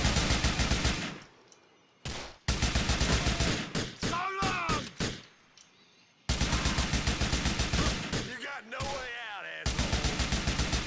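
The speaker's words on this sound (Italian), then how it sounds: "mi piacciono queste sparatorie." Rapid bursts of automatic gunfire in GTA IV, loud and close, broken by short gaps with single shots and ringing tones, like a game shootout.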